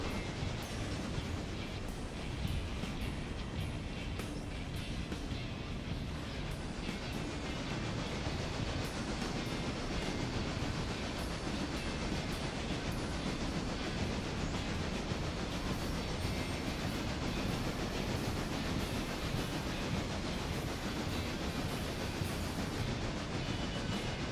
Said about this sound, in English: Passenger train is in Bryson.